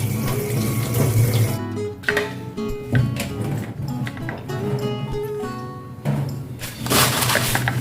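Radish gets washed under a running kitchen tap, a steady close rush of water with splashes and occasional thuds and clatter as it is handled in the sink, no voices.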